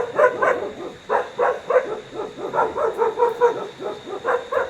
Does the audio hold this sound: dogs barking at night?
yes